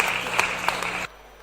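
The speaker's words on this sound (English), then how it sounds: "a round of applause for Scott Evans" An audience at a men's volleyball final between GH Army and GH Police applauds in a brief, moderately loud burst of clapping that cuts off abruptly after about a second.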